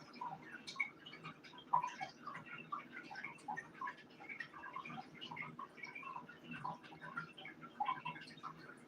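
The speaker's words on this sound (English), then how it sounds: "the noise you hear in the background, the water, that is my aero garden" Water trickling and dripping in an AeroGarden indoor growing system, a faint, irregular patter of small drips and splashes in a quiet room.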